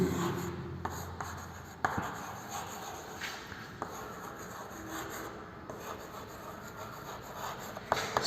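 Writing on a board during a lesson about units of weight, continuous close scratchy strokes with scattered taps and clicks of the marker, no voice over it.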